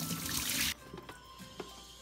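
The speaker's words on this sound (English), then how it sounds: "Drain your vegetables." Water rushes off freshly washed vegetables in a kitchen while they drain for a Vietnamese beef pho, a steady broadband splash that cuts off abruptly after under a second, followed by a few faint clinks.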